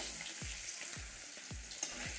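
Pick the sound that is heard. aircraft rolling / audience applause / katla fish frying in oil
katla fish frying in oil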